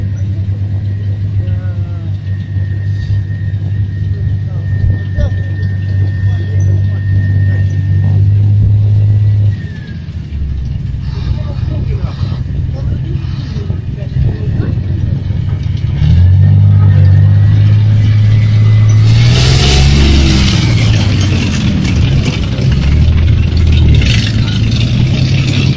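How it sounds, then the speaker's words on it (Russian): A car engine revving hard as it drives over concrete blocks, a loud rumbling, rising and falling drone with bumps and scraping late on, while people talk over it. "Зачем объезжать, если можно проехать через блоки прямо,"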